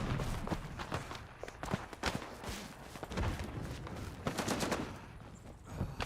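Machine gun fire in the Gallipoli video game, a faint distant crackle of bursts and scattered shots mixed with footstep-like thuds, fairly quiet overall.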